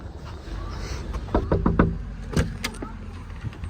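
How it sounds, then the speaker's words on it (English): Knuckles rapping on the front door of a four-bedroom lodge at Center Parcs Woburn Forest, a few close, sharp knocks in two short bursts over low background noise. "Let's go knock on the door"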